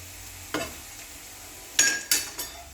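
Chopped onions frying in a pan for zucchini risotto, a steady soft sizzle broken by a few sharp scraping stirs of a utensil against the pan, close and alone.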